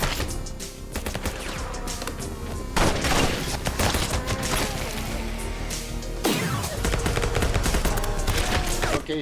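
Rapid gunfire in the video game Codename TCT, dense crackling volleys with crashing impacts filling the whole stretch, loud and continuous with brief shifts in intensity.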